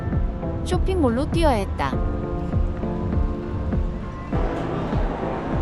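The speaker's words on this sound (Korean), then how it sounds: "갑자기 비가 쏟아지기 시작해서" Rain pours down steadily in Kuala Lumpur, a dense wash of drops beneath a person speaking, with a brief swooping tonal sound early on and some clattering in the background.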